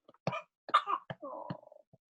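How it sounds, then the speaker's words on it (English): A small child with a cold coughs several times in quick bursts, close and fairly clear, with short pauses between coughs. "we just got her first cold, including a cough."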